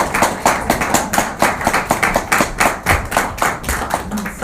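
A church congregation claps in a steady rhythm, loud, close and continuous from start to finish, with no talking.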